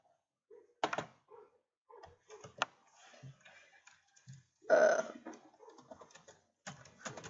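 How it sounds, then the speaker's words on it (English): Keys on a computer keyboard are struck in a slow, scattered way, with quiet isolated clicks and short pauses between them. A few other faint noises sit among the keystrokes. "I'm a slow typer"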